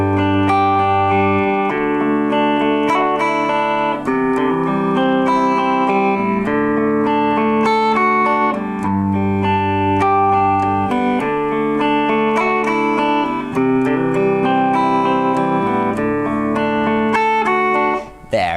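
An electric guitar plays a riff at a steadier, slightly quicker pace, a continuous flowing melody of picked notes over a repeating low bass line, close and full with no talking.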